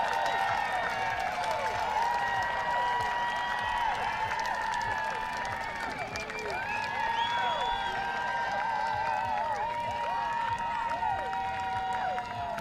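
Home crowd at a women's soccer match between Angel City and Portland roaring after an early goal, a continuous loud wash of cheering and whistles filling the stadium, with commentators talking over it.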